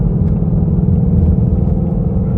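A 2019 Mustang GT with a 460-horsepower 5.0 V8 and six-speed gearbox pulls hard in third gear, giving a loud, steady, deep engine rumble that holds for the whole stretch with no one talking.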